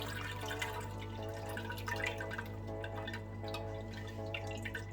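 Liquid ogi (pap) mixture strained through a strainer drips and trickles quietly, under steady tonal background music and a low hum.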